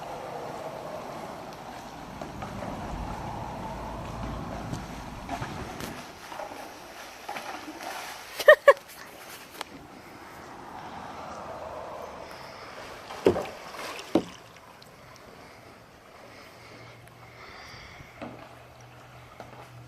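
Hired kayaks are paddled over rocks against the current at low tide, with soft splashes, a few sharp knocks and scrapes, and wind buffeting the microphone.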